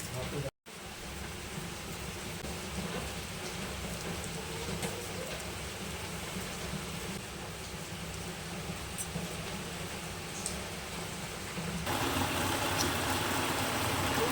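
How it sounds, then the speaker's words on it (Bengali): Steady rain hisses evenly throughout, a constant broadband patter that grows slightly louder toward the end. "বৃষ্টি হচ্ছে বাসায় জল পুরো জমে গেছে"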